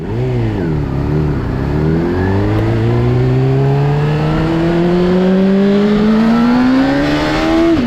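A Honda CBR600 sport bike on track pulls away in gear, its engine note dipping briefly then climbing smoothly and steadily in pitch as it accelerates, loud and close, with no voices.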